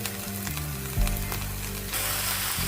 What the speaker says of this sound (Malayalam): ഇനി അതൊന്ന് നല്ലപോലെ ഒന്ന് ആ എണ്ണക്കകത്തൊന്ന് വഴറ്റിയെടുക്കാം